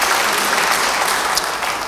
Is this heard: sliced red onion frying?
no